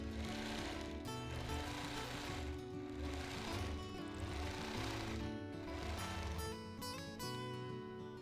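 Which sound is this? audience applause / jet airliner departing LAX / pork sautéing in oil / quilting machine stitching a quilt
quilting machine stitching a quilt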